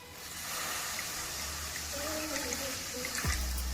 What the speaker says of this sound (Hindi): अब आधा गिलास पाइनएप्पल जूस का जाएगा इसमें।